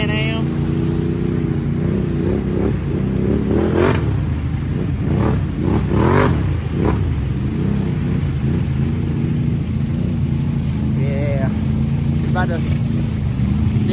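Can-Am off-road vehicle engine running loud and close for the whole stretch, with rising and falling revs in a few throttle blips during a night ride.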